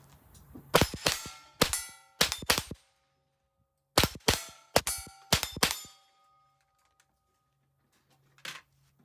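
Pistol shots fired with a red dot sight ring off steel targets in a Steel Challenge stage: seven sharp cracks each followed by a bright metallic clang, in quick clusters, then a pause and one faint distant ping.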